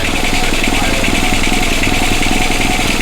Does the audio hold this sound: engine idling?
yes